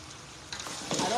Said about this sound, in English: So these things are frying together.